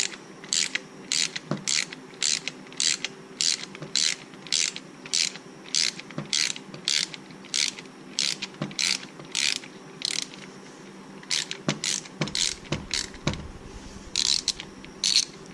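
A ratchet wrench snugs down the cylinder head bolts on a pit bike during a head gasket repair, giving steady runs of sharp, close clicks in quick repeated strokes with brief pauses between.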